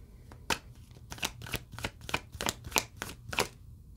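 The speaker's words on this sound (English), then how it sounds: "I shuffle live because you can't make this stuff up." A deck of tarot cards being shuffled by hand, a quick run of about ten crisp riffling bursts, close and fairly clear over a faint low hum, with no talking.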